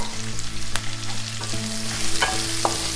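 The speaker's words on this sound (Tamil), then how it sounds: "இப்போது பொடிசாக நறுக்கி வச்ச வெங்காயத்தை அதில் போட போகிறோம்." Finely chopped onions frying in hot oil for a potato curry, a loud steady close sizzle with occasional stirring scrapes and pops throughout.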